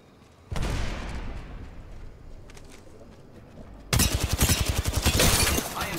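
Gunfire in the shooter game Apex Legends: a burst of shots at the start, then a rapid automatic volley near the end, loud and close with quieter game noise between.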